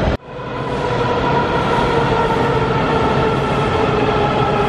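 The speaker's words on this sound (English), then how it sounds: "I'm taking the subway back to the hotel." Steady, loud rumble of a subway train in motion, a continuous rolling roar with wheel and rail noise filling the whole stretch from just after a brief opening gap, with no voices.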